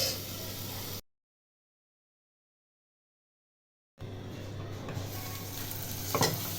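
Chopped tomatoes go into a turmeric spice masala for chole, sizzling steadily in the pan; the sound cuts out to silence for a few seconds, then the frying returns with a light clatter of utensils.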